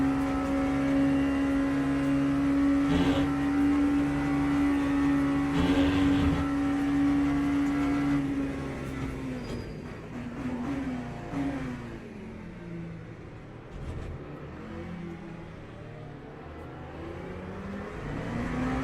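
Several GT3 race cars from Le Mans Ultimate sweep past in traffic at Spa, engines droning loud and close before tailing off into a lower, fading rumble.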